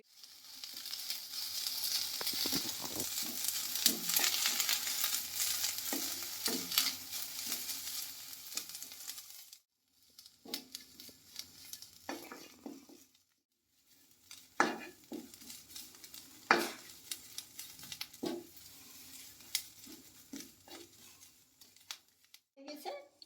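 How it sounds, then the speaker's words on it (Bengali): Neem leaves and eggplant dry-roasting in a pan with no oil, a steady close crackle and sizzle broken by brief gaps, with scattered utensil clicks and a voice heard faintly. "শুকনো খোলায় ভেজে নিচ্ছি শুকনো একদম তেল ছাড়া ভেজে"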